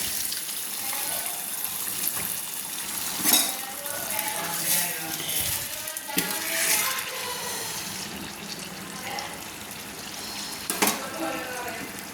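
Water is poured into ghugni, a spiced pea curry, simmering in a pan, a splashing, gurgling rush with a few metallic clinks and a voice faintly in the background.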